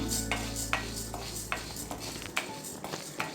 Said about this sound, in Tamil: இப்போ கடலைப்பருப்பு, உளுந்து வறுக்கிறச்ச கொஞ்சம் ஹை ஃப்ளேமில் வச்சுட்டு கைவிடாமல் நீங்கள் வறுத்து எடுத்துட்டுருணும்